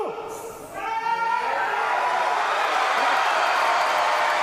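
Crowd roaring at a Paralympic para powerlifting final in Paris as a lifter makes his first attempt, the roar swelling after a second and holding loud and sustained to the end.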